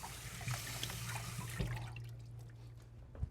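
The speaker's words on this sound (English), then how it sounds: "Rinse my potatoes a little bit here." Peeled potatoes rinsed under running water: a faint splashing stream for a couple of seconds, then quieter drips and light handling sounds.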